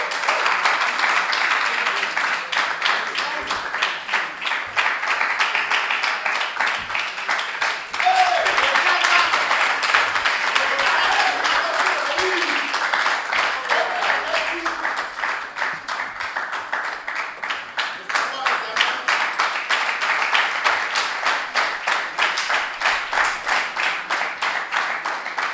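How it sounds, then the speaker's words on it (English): Round of applause welcoming contestants onto stage at a business challenge quarter final, many hands clapping in a long, steady, fairly loud stream that swells slightly midway and then carries on evenly. "join me with a round of applause as I welcome contestants on stage."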